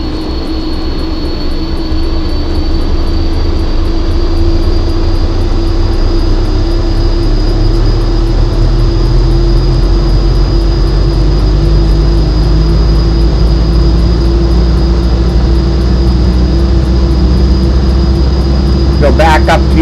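The Carenado PC-12 turboprop engine in X-Plane 11 spools up during start, a loud, steady whine and roar with a tone that climbs gradually over a constant low hum.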